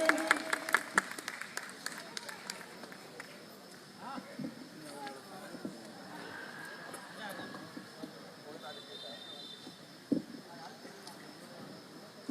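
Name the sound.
applause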